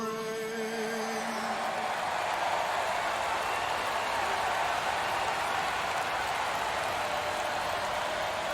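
A stadium crowd in MLB The Show 22 before a World Series game, a dense, continuous roar of cheering and applause that holds steady throughout.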